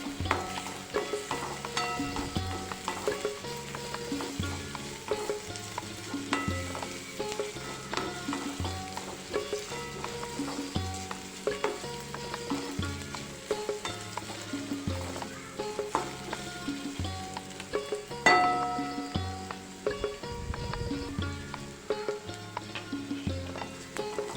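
Onions and carrots stir-fry in a pan for Chinese fried rice, a constant close sizzle broken by rhythmic scraping and clattering of a spatula, with a brief louder scrape near the end; no voices.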